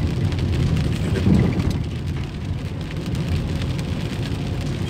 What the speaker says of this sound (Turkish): Yağmur bastırdı.